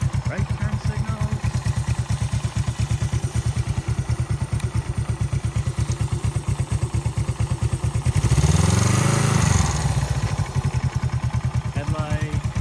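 A Honda CB360 motorcycle engine warms up, chugging in an even fast idle pulse throughout, loud and close, with a brief swell of rumbling noise partway through.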